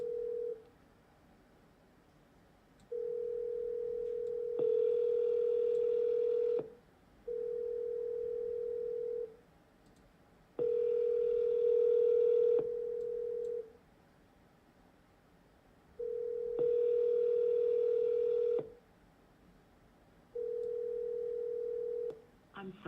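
Telephone ringback tones during a call to a seller: steady pitched beeps in a repeating pattern of long tones and pauses, faint and clean with a quiet line hiss between them.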